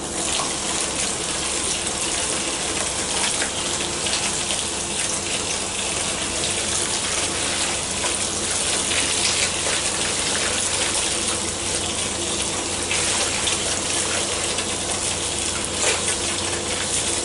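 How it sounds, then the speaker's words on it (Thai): Steady broadband rush of running water from a tap over a human hair wig being rinsed, continuous and fairly loud with no talking. "เรามาถึงขั้นตอนการล้างกันเลย เรามาล้างกันเลยนะครับ"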